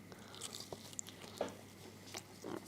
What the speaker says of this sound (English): you can probably hear me chewing